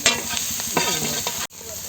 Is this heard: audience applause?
no